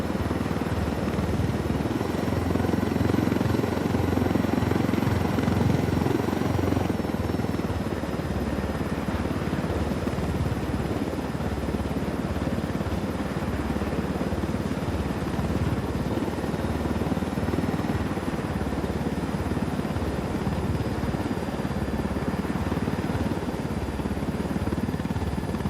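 A helicopter in the video game Ghost Recon Wildlands thrums steadily and loudly throughout, a dense rotor and engine roar with a faint high whine above it.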